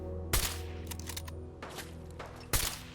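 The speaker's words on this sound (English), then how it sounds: "Oh, you're shooting." Video game gunfire: two sharp, loud shots about two seconds apart with a few quieter pops in between, over a steady droning game background.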